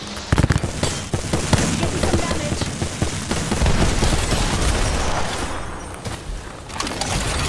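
Rapid, heavy-recoil automatic gunfire in Apex Legends, a loud, dense stream of shots that dips briefly near the end and then resumes, with no talking over it.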